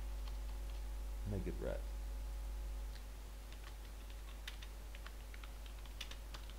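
Computer keyboard typing, light scattered key clicks at close range, with a brief spoken phrase near the start and quiet room hum beneath.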